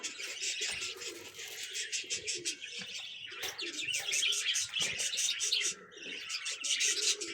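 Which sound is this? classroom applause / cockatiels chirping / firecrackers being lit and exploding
cockatiels chirping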